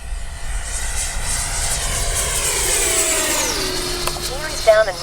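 A Freewing 90mm J-10 RC jet at full speed gives a loud, sustained turbine whine that shifts pitch as it passes through the air, with someone speaking over it near the end.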